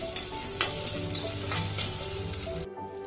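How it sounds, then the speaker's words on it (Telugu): Chopped onion pieces fry in a pan with a constant close sizzle, punctuated by a few sharp clicks of stirring, and the sound cuts off abruptly just before the end. "ఉల్లిపాయ ముక్కలు కూడా వేసేసుకోవాలి వీటిని బాగా బ్రౌన్ కలర్ వచ్చేంత వరకు ఫ్రై చేసుకోవాలి"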